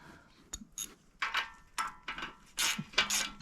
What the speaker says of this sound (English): So what I'm doing here is just tightening it up, making sure everything's tight.